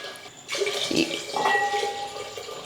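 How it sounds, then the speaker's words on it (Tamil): Milk is poured into a clay pot for sweet pongal, a close, gentle liquid splash and gurgle that begins suddenly and runs for about two seconds, with faint trickling as it tapers off. "இப்போ ரெண்டு கப் அளவுக்கு பால் சேர்த்துருக்கேன்"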